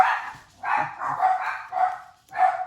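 Several dogs bark in short, repeated bursts, fairly close and loud, with brief gaps between the barks and no speech.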